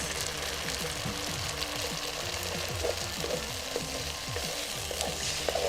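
Vegetables for vegan kimchi fried rice sizzling in hot oil in a pan, a steady loud frying hiss broken by scraping and stirring sounds, with no talking.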